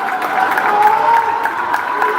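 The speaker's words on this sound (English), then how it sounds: "Crowd getting loud here." A packed gym crowd at a high school girls' basketball showdown between Clackamas and Tualatin roars steadily during a late-game timeout, a dense wash of cheering and shouting that stays loud throughout.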